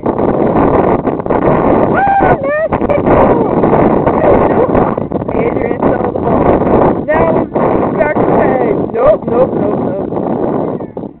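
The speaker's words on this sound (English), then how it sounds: "Windy and all." Strong wind buffeting the microphone at a children's soccer game, a constant loud roaring rumble that lasts the whole stretch, with voices faintly audible underneath.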